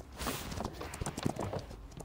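Hooves of Arabian horses clip-clop in a video game, a quick, fairly close series of light, uneven hoof steps lasting about two seconds with no talking.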